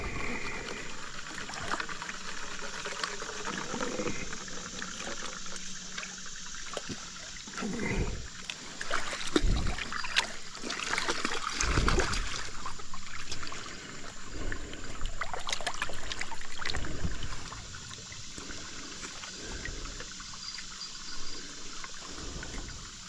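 Water sloshes and pours in a gold pan worked in reverse during outdoor prospecting, a moderately close uneven swirl and trickle with a few louder splashy surges and some soft background noise.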